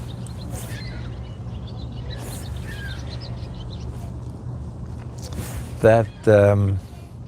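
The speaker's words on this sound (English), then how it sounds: "swallow sitting on the end of that dock is making a lot of noise" Chirps from a swallow perched at the end of a dock beside a boat, scattered thin calls over a low steady hum, with a voice breaking in loudly near the end.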